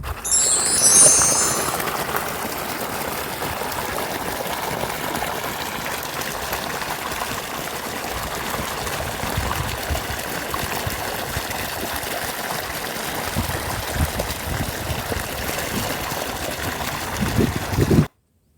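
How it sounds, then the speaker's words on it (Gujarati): Water flows and trickles steadily with a constant low motor hum underneath, continuing without pause for the whole stretch. "આપણે ચાલુ કરી દીધી મોટર"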